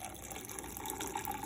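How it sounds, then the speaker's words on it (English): Chemex-brewed coffee is poured from a height into a mug, making a steady, quiet splashing trickle of liquid for a moment with no speech. "I'm gonna start pouring this in"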